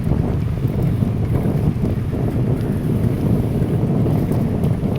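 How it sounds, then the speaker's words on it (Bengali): A cool sea wind blows steadily across a seaside park, giving a constant loud rushing roar like wind buffeting a microphone, with no talking. "সাগরের ঠান্ডা শীতল হাওয়া।"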